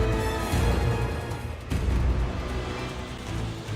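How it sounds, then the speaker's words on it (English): Explosions and gunfire from a video game erupt in a dense, continuous barrage of booms and bursts, loud and close throughout with a heavy thump midway. "the game turned from stealth and being careful into an all-out explosion gunfest"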